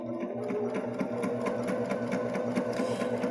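A Baby Lock Jazz II sewing machine stitches the bar tack of a buttonhole using a buttonhole attachment, a steady rapid mechanical chatter of needle strokes running close and continuous throughout.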